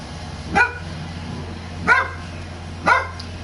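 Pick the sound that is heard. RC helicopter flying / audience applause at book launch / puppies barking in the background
puppies barking in the background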